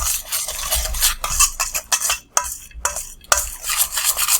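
Close, steady scraping and swishing of a utensil stirring pumpkin pie filling with spices in a bowl, continuous rubbing strokes with a few brief gaps.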